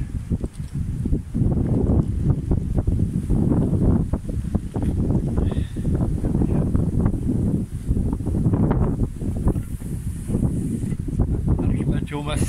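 Strong wind buffets the microphone continuously during magnet fishing with a fishing rod, a loud low rumbling roar with gusty surges that never lets up.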